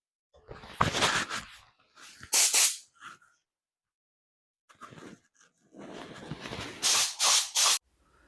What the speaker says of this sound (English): I'm spraying silver on everything, even though some of it's going to be painted red.